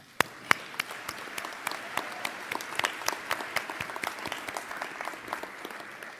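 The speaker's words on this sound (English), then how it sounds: "you deserve a mighty round of applause for your accomplishment" Applause at a spring graduation ceremony honoring the graduates, made of many separate sharp claps that ring out fairly sparsely from a moderately distant audience.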